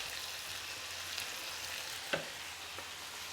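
Ginger garlic paste and chillies frying in a curry pan with tomatoes: a steady, even sizzle throughout, with one brief clack of a utensil near the end, close and alone without talk.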